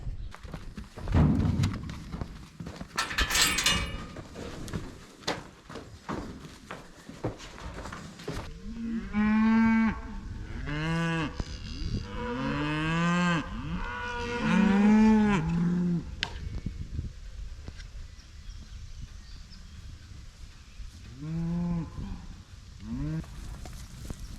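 Cattle on a farm moo repeatedly, with long drawn-out calls in a loose series through the middle of the clip and one more near the end, close and loud over a low outdoor background.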